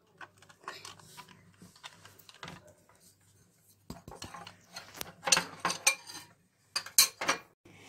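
A spoon scrapes and clinks against a cooking pot while ingredients for a chicken tagine are stirred at home. Uneven bursts of scraping come and go, quiet at first and louder later, with short sharp metallic taps.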